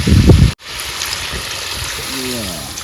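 Water is poured into a pot of spiced fish curry, giving a steady rushing, trickling wash after a sharp clatter at the start, with a voice briefly heard near the end.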